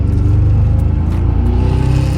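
A 2008 Mazda Speed 3 with a failed 2.3L engine and a dead cylinder runs rough, giving a loud, close, uneven low rumble with a lumpy, pulsing beat that continues throughout.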